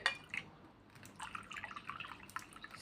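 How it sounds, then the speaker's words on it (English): Hot tea poured into a mug in a home kitchen, a faint, quiet trickle and dripping with light splashes, low and close. "I'm just going to pour some of the hot tea into a mug"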